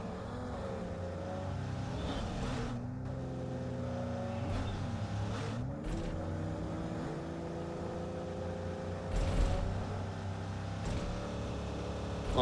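Engine drone of a vehicle in a battle royale shooter game, a steady revving hum that shifts in pitch as it approaches and accelerates, with a few brief sharp bursts over the continuous motor noise.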